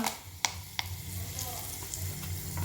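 Curry leaves crackle and sizzle in hot oil for sambhar, a soft steady frying hiss broken by a few sharp pops, quiet and close, with a voice talking over it.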